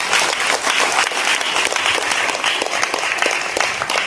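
A congregation listening to a Hindi sermon about Mother Mary breaks into steady, lively applause, many hands clapping close together throughout, with only a faint voice underneath.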